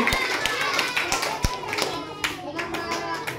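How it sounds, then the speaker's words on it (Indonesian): Scattered hand clapping from an audience at a school environmental education session, a handful of sharp claps standing out over a busy wash of chatter and children's voices. "Tepuk tangan dulu dong"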